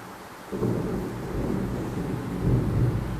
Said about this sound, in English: I don't know if you can hear the thunder sounds